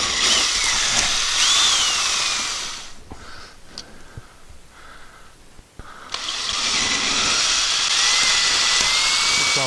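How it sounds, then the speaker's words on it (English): A power drill with a 3/8 bit bores holes during a Mr. Heater Big Maxx unit heater installation. Two loud whining bursts of drilling are separated by a quieter pause. "So now I just have to drill the holes where I've marked them with my 3/8 bit"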